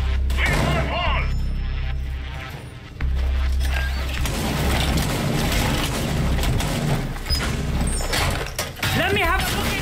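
Grenades fire in a Rainbow Six Siege collegiate esports match: repeated heavy thumps and booming blasts over a dense mix of game noise, with voices talking over the top.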